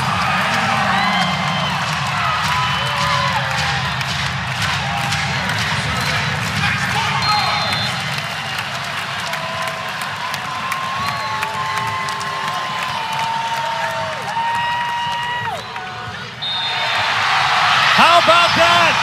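A record crowd in Louisville cheers at match point of a Kentucky vs. Louisville college volleyball game, a steady roar beneath continuous commentary that swells sharply near the end.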